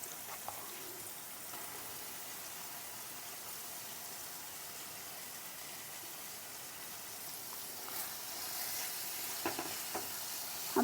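Clam meat frying in a clay pan gives a steady, even sizzle with no pauses, and a few faint stirring scrapes come near the end.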